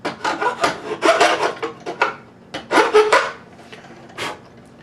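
Repeated strokes of a file rasping down wood on a ukulele headstock, a quick run of rubbing passes, a short pause, then another burst of strokes and a final single pass, close and fairly loud with no talk.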